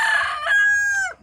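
A single rooster crows nearby in a loud, clear call that rises and holds before cutting off, with no talk over it.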